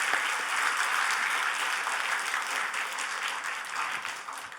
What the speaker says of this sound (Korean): 응원 박수 한번 부탁합니다.